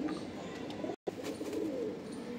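Several Madrasi pigeons, a pure brown-green bird among them, coo steadily in low, soft rolling calls at close range, with a brief silent gap near the middle and no talk over them.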